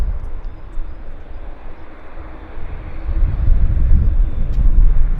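Jazz CRJ regional jet arriving at Vancouver airport, a low rumbling engine roar that swells steadily louder over several seconds as it approaches, with no talk.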